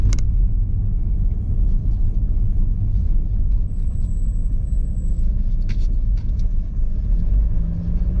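Car driving along a country road out of a valley, a steady low engine and road rumble continuing throughout with no talk.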